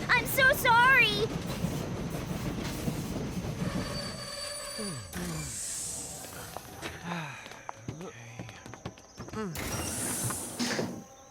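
An animated cartoon train in Choo Choo town pulls in late, metal wheels squealing in long high whines and clanking over the track, with cartoon voices talking over and between the rail sounds.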